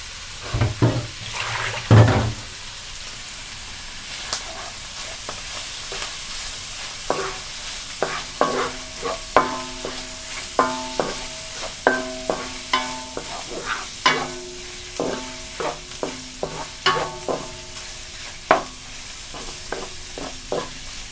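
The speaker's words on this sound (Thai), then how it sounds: "เห็ดหอมให้มันหอมนะคะเราจะผัดเหมือนผัดผักนะคะ" Shiitake mushrooms are stir-fried in a pan alongside pork: a steady sizzle runs beneath repeated scraping and tapping of a spatula against the metal, close and moderately loud.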